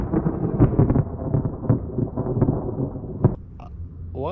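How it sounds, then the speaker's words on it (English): Thunder from a lightning strike directly overhead rolls in loud, crackling bursts and rumbles, then fades toward the end. "That lightning was just over my head."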